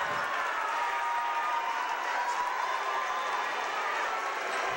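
A home crowd at a high school boys' basketball game in a gym, a sustained, loud roar of cheering and clapping that stays steady throughout.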